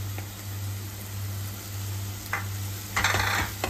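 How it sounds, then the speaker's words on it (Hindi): Boiled potatoes go into a hot pan for masala pav and get stirred, with a low steady sizzle under scraping and clinking of a spoon against the pan, brief clatter near the end. "अब इसमें हम अपने उबले हुए आलू डाल देते हैं"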